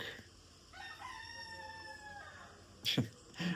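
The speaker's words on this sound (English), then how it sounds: "Rooster says good morning." A rooster crows once, a long drawn-out call at moderate distance, followed by a short sharp knock and faint background noise.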